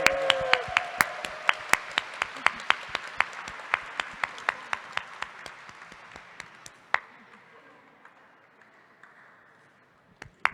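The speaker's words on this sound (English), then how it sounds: "Let's give them another round of applause." Applause for a winning team at a university showcase day, with sharp, close individual claps standing out over a fading wash of crowd clapping that thins to a few isolated claps.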